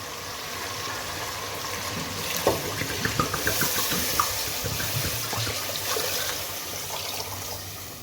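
Water being poured into a cooking pot of fried masala for beef nihari, a steady splashing and trickling pour with brief sharper splashes near the middle, close by and moderately loud with no talk.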